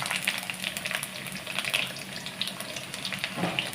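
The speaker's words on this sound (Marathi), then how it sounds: "कढीपत्त्याची पानं चांगली अशी फ्राय झाली की त्याच्यात कांदा घालूया" Curry leaves frying in hot oil in a pan, with onion about to go in for misal, give a steady crackling sizzle with bright spitting pops throughout, close and moderately loud, no voices.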